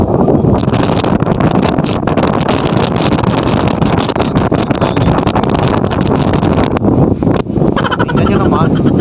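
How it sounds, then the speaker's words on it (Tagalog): Strong wind sweeps across Vintar Dam in Ilocos Norte, buffeting the microphone with loud, continuous gusty roaring from start to finish. "Tapos ang hangin mga kamix."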